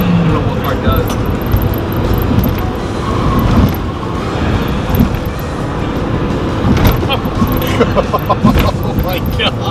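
A small turbocharged Kei car on the road, its engine and turbo noise mixing with steady road and tyre rumble and occasional thumps from the road surface. People talk over the driving noise throughout.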